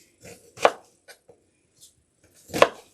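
A knife cuts up an onion on a board with a handful of sparse chops. Two land hard and crisp, with several lighter taps between them and quiet gaps around each.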